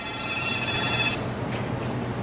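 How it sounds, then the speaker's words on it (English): A telephone rings inside a pharmacy store, a bright electronic trill heard over steady room noise that stops about halfway through. "Someone answer the phone."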